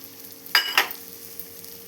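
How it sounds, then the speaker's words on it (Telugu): Coarse semolina (rava) frying in ghee gives a soft sizzle that is stirred twice, producing two sharp scraping bursts half a second apart before settling back to a quiet background fizz. "ఇప్పుడు ఈ విధంగా కలుపుకొని దీన్ని గోల్డ్ కలర్ వచ్చేంత వరకు వేయించుకోవాలండి"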